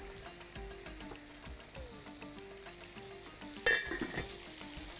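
Broth poured over well-sautéed vegetables in a hot pan, a steady soft sizzle and bubbling frying sound throughout, with a brief louder clatter near the end.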